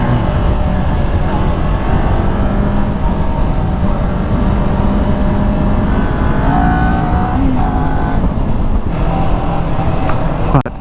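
A Kawasaki Ninja 400 motorcycle engine drones loud and steady throughout at sustained revs, with wind rush blending in and a brief dip near the end.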